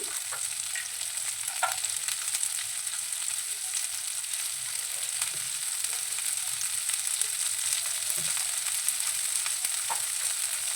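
Chopped onions and cashews fry in a spoonful of oil in a pan, giving a steady, close, unbroken sizzle with faint crackles and no voices.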